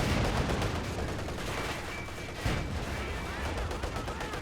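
Machine gun fire in the Company of Heroes 2 strategy game, dense rattling bursts with distant battle booms running continuously at fairly loud level, with a spoken voice layered over the combat.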